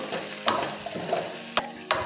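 Fried idli with green coriander tossed in a pan, producing three or four sharp spoon-on-pan scrapes over a low sizzle, close and clear.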